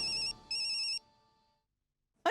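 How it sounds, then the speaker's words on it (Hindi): A mobile phone left behind at home rings with a bright electronic ringtone in two loud bursts with a short gap, then stops and the room falls quiet; no one speaks over it. "अरे गोली का फोन?"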